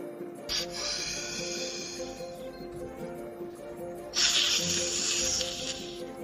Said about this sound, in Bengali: এটা সাপের হিস শব্দ